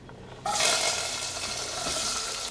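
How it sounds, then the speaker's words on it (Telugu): Onions dropped into hot oil with turmeric, cloves and cinnamon burst into a loud, close sizzle that starts abruptly and then holds as a steady frying hiss. "నూనె కొంచెం కాగిన తర్వాత ఉల్లిపాయలు వేసేసుకోండి"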